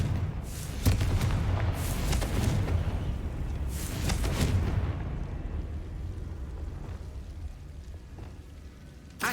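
A Confringo fire spell from the Hogwarts Legacy video game bursts in a series of deep booming blasts with fiery rumble, loud at first and then fading into a lower, lingering roar, with no talk.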